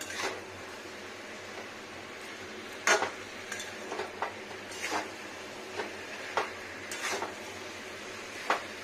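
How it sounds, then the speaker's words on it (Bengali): Chicken with spices being sautéed in a pan, a faint low sizzle under scattered metallic clinks and scrapes of a spoon against the pan at irregular intervals, close by and without speech. "মাংসটাকে কষিয়ে নেবো ভালো করে।"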